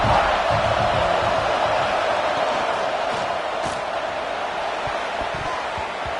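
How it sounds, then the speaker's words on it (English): A home crowd roars at an Arizona State Sun Devils football game, a dense, sustained wall of cheering that stays loud and steady throughout, with faint whistles rising above the din. "how nice is it to have the home crowd going absolutely bananas?"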